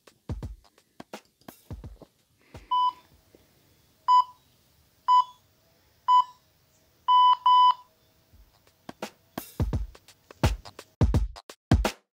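Electronic workout timer beeps, a series of short sharp tones in an irregular pattern, with a rapid double beep near the end, set between stretches of talk before and after.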